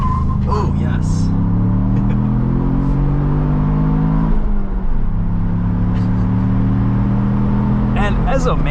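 A Ford Bronco with a 7-speed manual gearbox downshifts: a steady engine drone whose pitch sweeps down, dips through the shift, then climbs again as the revs rise, heard from inside the cabin with people talking over it.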